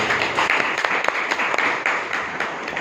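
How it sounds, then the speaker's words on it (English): Applause from an audience at a Toastmasters club meeting in Bangalore, a dense steady patter of many hands clapping at moderate distance, sustained throughout without talk. "A round of applause to the speaker and the other."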